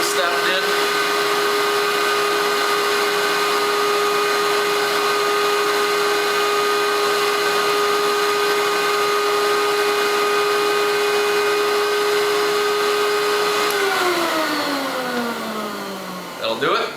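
Nitty Gritty record cleaning machine vacuuming a vinyl record, a loud steady motor whine with a strong sustained tone holding for most of the run, then sliding down in pitch as the suction winds off near the end.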